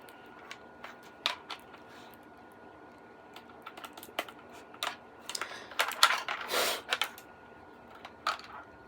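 Keys clack on a computer keyboard in irregular bursts, close and crisp, with a quick flurry of rapid keystrokes partway through.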